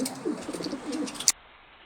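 Several soft low coos from a racing pigeon, close by, repeating over about a second before a sharp click and silence.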